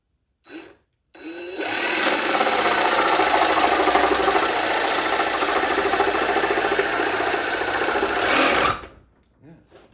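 A jigsaw cuts through wooden fascia board, a loud continuous buzzing rasp that starts abruptly, runs steadily for about eight seconds close by, then stops.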